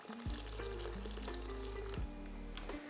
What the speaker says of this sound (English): Let's add some hot water.